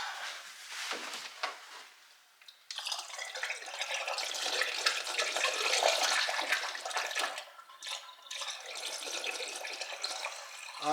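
Antifreeze pours into the engine of a 2014 Buick Enclave as a soft, continuous gurgling trickle. It surges steadily for several seconds with brief pauses between pours.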